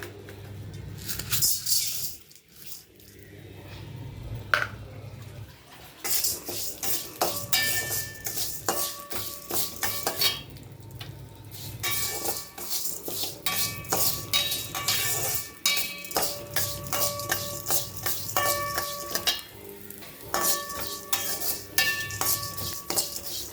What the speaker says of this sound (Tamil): இந்த கருப்பு உளுந்தை வறுக்க போகிறேன். அது கொஞ்சம் எண்ணெய் ஊற்றி வச்சு கருப்பு உளுந்து